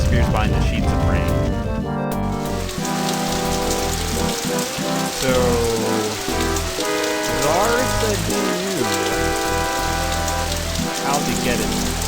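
A magical deluge of water replacing a firestorm in a fantasy tale pours as loud, continuous heavy rain throughout, blended with background music while someone speaks over it.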